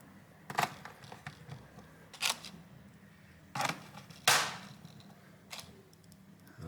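Screws go into the back cover of an Acer Aspire Go 15 AG15-51P laptop, with five or six short sharp clicks and clacks of a small driver and metal, close and quiet, spaced unevenly.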